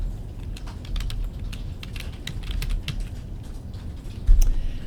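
Soft, steady tapping on a computer keyboard while text is entered into a PowerPoint slide, a string of light keystrokes under faint room hum with one louder knock near the end.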